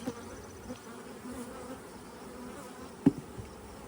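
Steady buzzing of many honey bees fills the air, a dense hum around a hive, with a brief bump or knock near the end.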